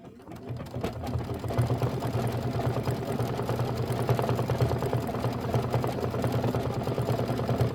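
An embroidery sewing machine stitches out a white section of a Kimberbell August mini quilt block, its steady rapid needle hum running continuously and fairly loud throughout, with no talking.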